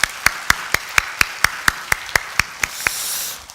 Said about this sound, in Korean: 박수로 하나님 앞에 영광을 돌려드리겠습니다.